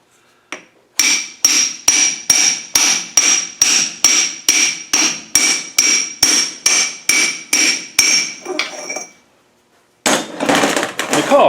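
Rapid, regular metallic hammer blows on a tube, about twenty sharp ringing strikes in a steady rhythm, close and loud, followed by a pause and some clattering.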